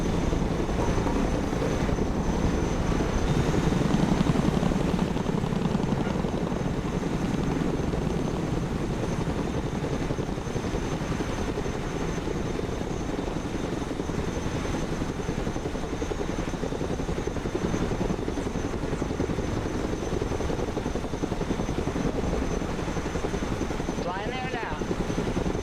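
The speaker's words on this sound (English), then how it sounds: "Let's go and recover it with our helicopter." A cargo helicopter's rotor in a video game drones loudly and steadily throughout, a constant whirring roar with some talk underneath.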